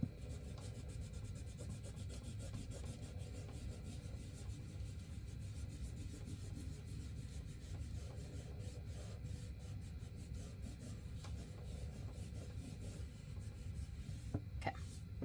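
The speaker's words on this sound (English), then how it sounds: "I need to erase some of my pencil marks." A pencil eraser rubs steadily back and forth over paper, a continuous close scratchy friction that keeps going for the whole stretch with no voices.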